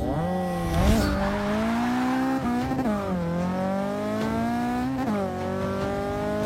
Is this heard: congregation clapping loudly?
no